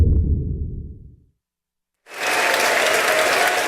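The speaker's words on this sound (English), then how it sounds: "The applause reverberating throughout the chamber" Applause fills the US House chamber welcoming back House Majority Whip Steve Scalise at the Capitol, a loud, dense reverberant wave of clapping that swells after a brief silence, following an earlier burst of low rumbling crowd noise.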